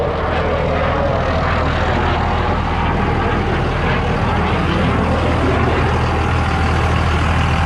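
A 24-valve Cummins diesel idles steadily in a 2001 Dodge Ram 3500 after a rear main seal replacement, a loud, continuous low rumble and clatter that holds level throughout with no talking over it.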